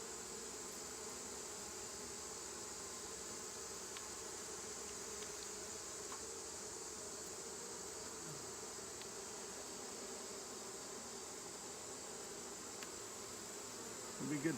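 Honey bees buzzing steadily around an open hive during an inspection after a Formic Pro treatment, a constant close drone with no pauses and no talking.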